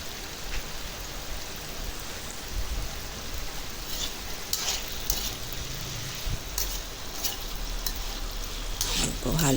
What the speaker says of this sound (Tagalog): Yung tama lang pong prito, yung medyo mapula lang po yung gilid.